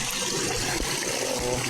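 Water flowing out of a broken spot at a rural buffalo pasture, a continuous gushing rush that stays loud and steady throughout.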